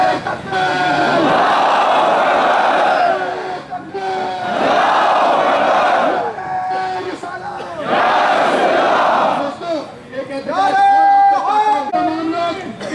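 Crowd at a protest march against Israel at AMU chanting the slogan Allahu Akbar, with several loud shouted bursts separated by short pauses, close and filling the space.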